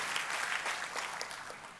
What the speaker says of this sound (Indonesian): Kita kasih tepuk tangannya, boleh yang paling meriah buat Tuhan.